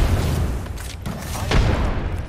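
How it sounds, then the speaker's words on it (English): Grenade explosion in Apex Legends, a heavy booming blast with rumbling low end and a sharper burst near the end, loud and close with no talk. "Throw my grenade out."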